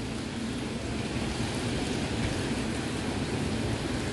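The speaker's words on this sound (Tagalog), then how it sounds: "Kasi ang lakas ng ulan." Heavy rain pours steadily outside a hotel in Tokyo, a dense, continuous hiss with no voices and no breaks, holding an even, loud level for the whole stretch.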